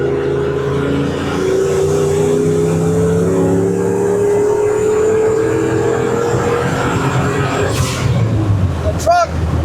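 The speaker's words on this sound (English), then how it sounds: "The truck definitely pulling harder." A 1976 Ford F250 pickup with a turbocharged 331 engine roars steadily as it accelerates, its pitch climbing through a long pull, with a brief whoosh near the end.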